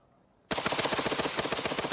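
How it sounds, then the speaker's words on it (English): A Maxim machine gun opens up after a moment of quiet, firing a loud, rapid, evenly spaced stream of shots that continues without pause. "The Maxim sprayed a wall of fire that cut down everything in its path."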